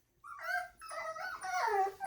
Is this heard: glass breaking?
no